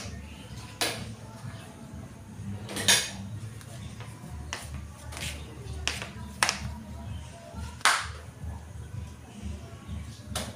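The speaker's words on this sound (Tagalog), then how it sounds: "haluin ang ating gata-gata" A spoon stirs coconut milk in a cooking pot, with scattered sharp metallic clinks and scrapes against the pot at irregular intervals over a quiet kitchen background.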